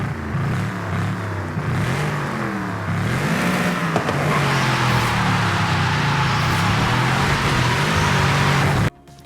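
A BMW Z4's inline-six engine in Forza Horizon 5 revs and shifts through gears, a loud, close, continuous drone rising and dipping in pitch with no speech.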